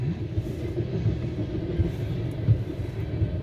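A southbound CSX ethanol freight train passing a road crossing in Ulster Park, New York: a low steady rumble with rhythmic wheel thumps at roughly even intervals as tank cars roll by close.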